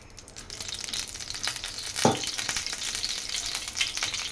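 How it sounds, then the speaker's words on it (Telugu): Cold-pressed groundnut oil poured into a hot pan, crackling and sizzling steadily close up, with a brief louder spatter partway through. "అదే పెనంలో మనం కొంచెం ఆయిల్ పోసుకుందాం ఫ్రెండ్స్."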